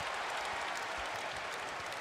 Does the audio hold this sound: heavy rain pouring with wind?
no